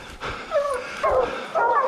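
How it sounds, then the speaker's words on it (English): Bear hounds out in the woods bay and yip at trees in three drawn-out, wavering howls one after another, close and loud, with some whimpering tones. "We had dogs barking each one of them."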